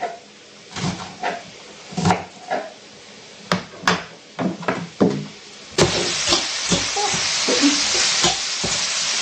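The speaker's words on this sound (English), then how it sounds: "Just want the meat to get a little brown." Kielbasa browns in a frying pan with a soft sizzle, under repeated clattering knocks of cookware and utensils, before the frying grows into a louder, steady hiss.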